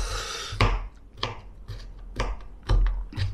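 A knife dices an onion on a cutting board in a home kitchen, several crisp chops in an irregular rhythm, close and fairly loud with no talking.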